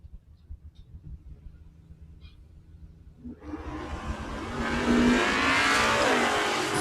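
A 1969 Camaro and a Mustang launch side by side down a drag strip. Engine noise rumbles low at first, then swells at about three seconds into a loud, sustained, broadband roar as both cars pull away.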